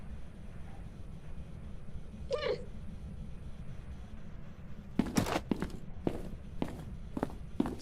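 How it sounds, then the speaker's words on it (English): A single short cat meow sounds faintly inside a closet in an indie horror video game. Scattered footsteps follow after a pause. "if you set in this closet long enough, every like 45 seconds or something like that, you'll get a cat noise."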